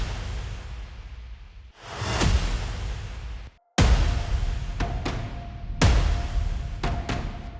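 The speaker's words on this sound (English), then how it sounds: "Then of course the trailer hits in the end as well." Epic cinematic trailer hits drenched in reverb and distortion: three massive booming impacts with long reverberant tails, broken by a short gap of silence, plus lighter accents over a sustained drone, loud and with no voices.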